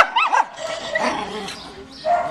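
A small dog that has climbed up high gives a few short yips and whimpering barks in quick bursts, close by, while a person speaks nearby.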